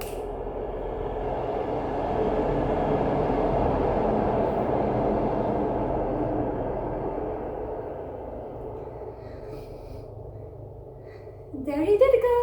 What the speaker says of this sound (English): Train is going to pass by.